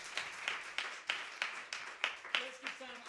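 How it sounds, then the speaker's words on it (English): Audience applause after a performance on a live show, heard as a run of sharp, evenly spaced claps at a moderate distance, about one every third of a second, with a faint tone creeping in near the end. "Let's give Sam and Aaron another round of applause"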